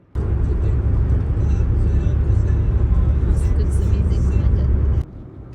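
Car interior on the drive to a hospital, a steady low engine and road rumble running loud and unbroken for about five seconds before it drops away; voices murmur faintly beneath it.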